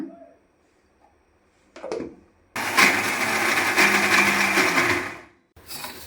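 Mixer grinder whirring loudly as it grinds peanut chutney with salt and tamarind, a steady motor roar of several seconds that starts abruptly after brief handling noises and stops, followed by a short restart.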